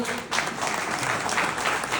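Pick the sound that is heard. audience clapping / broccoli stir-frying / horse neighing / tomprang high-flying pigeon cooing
audience clapping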